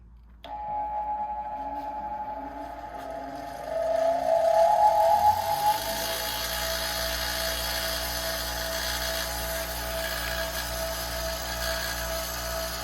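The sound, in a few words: old bench grinder running and spooling down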